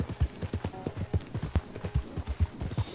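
A Mustang horse galloping in Red Dead Redemption 2, with rapid, regular hoofbeats thudding close and loud throughout.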